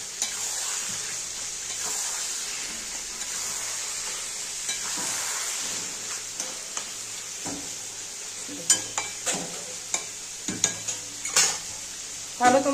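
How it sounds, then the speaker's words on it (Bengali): Chicken pieces sizzle steadily in a pan with potatoes to come, first a constant frying hiss, then repeated scrapes and clinks of a spoon stirring against the metal, close by. "এবার আবার একটু নেড়ে দেব।"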